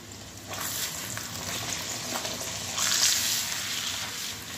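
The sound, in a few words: beef browning in a pan for tajine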